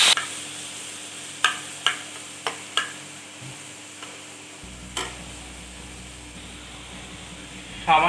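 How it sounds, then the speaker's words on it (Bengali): Boneless dried fish goes into a pan with fried onion and ginger julienne, giving a soft sizzle with several sharp clicks of a spatula against the pan, then a steadier hiss of frying with no one speaking. "পেঁয়াজটা একটু ভেজে নেওয়ার পরে আমি মাছটা আমি দিয়ে দিচ্ছি,"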